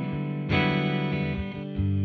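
Clean electric guitar on the middle pickup plays ringing notes and chords with a warm, slightly rounded tone, sustained and alone with no voices.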